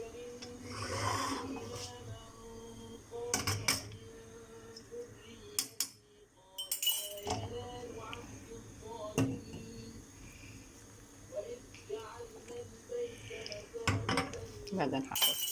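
Dishes and utensils clink sharply against a bowl of wheat dessert as milk is added, with scattered bright knocks over a faint background hum and occasional soft talk.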